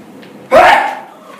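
One short, sharp sneeze bursts out nearby, then quickly fades.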